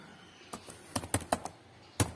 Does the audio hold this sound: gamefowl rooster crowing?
no